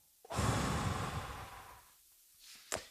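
A single person draws a long, audible breath, then exhales softly with a brief sharp intake near the end, close and alone in a quiet room.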